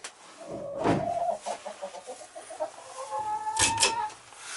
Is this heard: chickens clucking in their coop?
yes